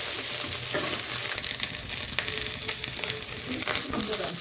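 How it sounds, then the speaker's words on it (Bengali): Vegetables frying with onion and garlic in a pan, a dense continuous sizzle close up with occasional stirring scrapes, no talking. "সবজি ভাজি করতে থাকবে"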